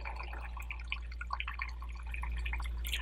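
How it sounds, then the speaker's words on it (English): Water is added to a gold concentrate feeder, making a run of small, irregular drips and trickles over a constant low machine hum. "I can go ahead and just add some water to it"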